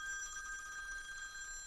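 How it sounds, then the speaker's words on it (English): A telephone ringing with a thin, bright electronic bell tone, steady and faint as if from a little distance, heard alone without talk. "I'm getting a phone call."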